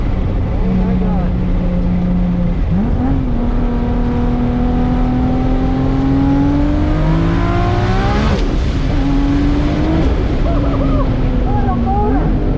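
A race car engine revs hard on a straightaway at an East Coast regional finals event, loud and close, its pitch climbing through gear changes with one sharp shift midway, while people talk over it.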